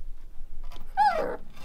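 Rottweiler puppies growl and whimper in a short, close burst of playful scuffling, with a rising and falling whine-like growl near the middle and no talking.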